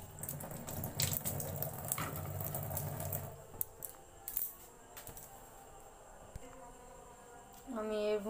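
Water runs from a kitchen tap into a pressure cooker holding halved eggplant and two tomatoes, a steady splashing pour for the first few seconds, then quieter clinks and handling, with a voice briefly near the end.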